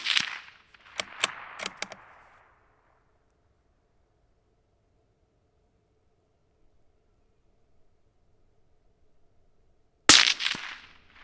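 Shots from a Bergara BMR bolt-action rifle in .22 WMR, fired outdoors: a few sharp cracks close together at the start, then a long quiet gap before another loud crack near the end.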